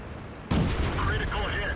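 Tank cannon firing in World of Tanks, one sudden loud blast followed by a long rumbling roar and crackling debris that fills the rest of the moment.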